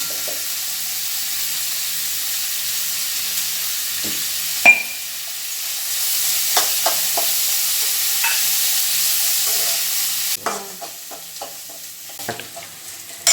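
Onions sizzle steadily in a pan with a little salt for a chicken gravy, a continuous close frying hiss broken by occasional spoon taps and scrapes, with no voices.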